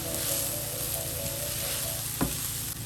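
Basmati fried rice sizzling steadily in a hot pan after a splash of soy sauce, a continuous close hiss with a brief stirring scrape near the end, no voices.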